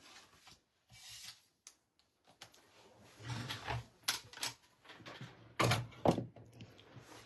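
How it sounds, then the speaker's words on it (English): Cardstock rasps and rubs through a manual cut and emboss machine, with scraping, gritty friction in uneven bursts and a few hard thunks near the end, close up and without talk. "run this through the your cut and emboss machine"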